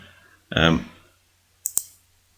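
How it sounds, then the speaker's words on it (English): A computer mouse double-clicks in Photoshop CC: two quick, sharp clicks close together near the end, coming after a brief burst of speech. "If I just double click on this again"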